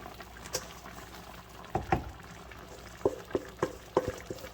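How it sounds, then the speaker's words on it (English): Beef stroganoff sauce at a slight boil in a pan, close and quiet, with scattered soft pops and bubbling blips breaking the surface at an irregular rhythm over a faint background hiss. "now we have a little slight boil"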